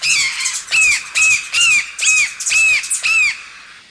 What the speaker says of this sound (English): They flapped their wings excitedly and chirped with glee.